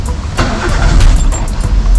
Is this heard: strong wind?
no